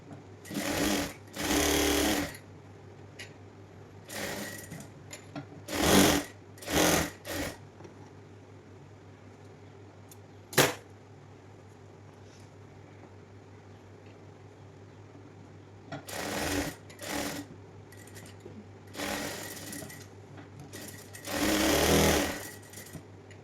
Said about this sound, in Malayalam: ഈ സൈഡൊക്കെ ഒന്ന് നീറ്റായിട്ടൊന്ന് അടിച്ചു കൊടുക്കാം